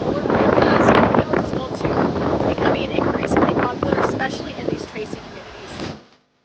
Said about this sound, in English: So it's pretty windy out here because we are in a country setting.